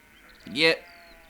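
A sheep bleat from a song, a single wavering bleat of about a third of a second that rises loud over a faint background.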